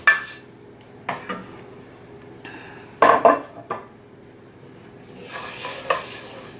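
Coriander seeds and other whole spices dry-roast in a heated pan, heard as intermittent scraping stirs and clinks of a utensil against the metal, with soft rattling and a brief hiss near the end.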